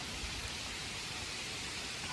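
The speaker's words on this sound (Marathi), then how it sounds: "तुमका आवाज येत असतो बघा पिंपळाच्या झाडाचा" Leaves of a peepal tree at a village temple rustle steadily in the breeze, a soft, continuous, broadband hiss that stays even and unbroken throughout, with no voices.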